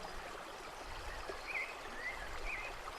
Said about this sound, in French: Il y a cette eau qui coule